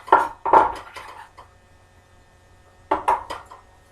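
Cut green onion added to a one-pot homemade beef stew with browned meat, heard as two close clusters of clattering pot and utensil knocks separated by a quiet pause.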